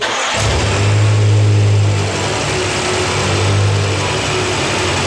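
The engine of a BMW M6 that was previously submerged runs loud and close. It holds a steady low rumble with a brief rise in revs early on and another swell near the end.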